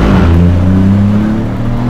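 A 2021 Opel Corsa with a stage 1 tuned 1.2 PureTech engine revs, its tone climbing and then holding as a loud, close, steady drone with no one talking over it.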